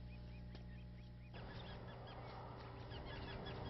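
Resident Canada geese honking at a wildlife refuge marsh, a flock giving many overlapping nasal honks, steady and fairly far off against a low background rumble.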